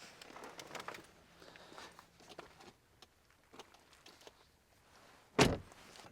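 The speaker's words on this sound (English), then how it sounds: "Shut the door, lock it for 10 seconds" A single sharp car door slam near the end, preceded by quiet shuffling and faint mechanical clicks, as the door is shut and the car locked.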